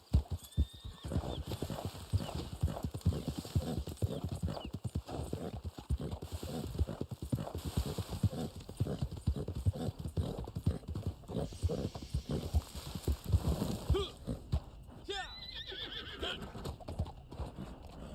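A horse in the Red Dead Online video game clip-clops in a steady, close rhythm of hoofbeats, followed near the end by a loud whinny.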